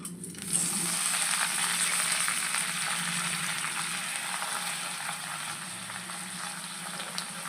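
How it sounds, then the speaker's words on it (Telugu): Coriander with its stems frying in hot oil for a tomato chutney, giving a loud, dense sizzle that flares at the start and then settles into a steady crackle, with no talk. "కొత్తిమీర కాడలతో పాటు వేసేసాను. బాగా ఫ్రై చేసుకోవాలి."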